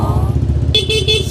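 A Honda Click V1 scooter engine runs close and steady, a low throbbing drone, joined in its second half by a brief repeating high-pitched beep.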